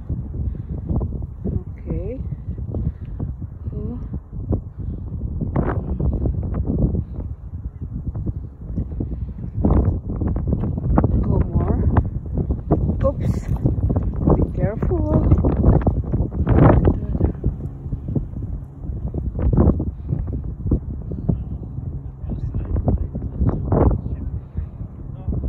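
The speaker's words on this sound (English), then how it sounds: "It's windy." Wind gusts along a coastal walking trail in Alaska, a steady broadband rush and buffeting on the microphone throughout, with people talking over it.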